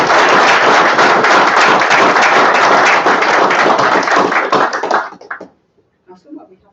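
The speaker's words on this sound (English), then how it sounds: "Can we have a big round of applause for that?" Wedding guests break into a long burst of loud, dense applause right after the vows, the clapping tailing off near the end with a few faint words spoken.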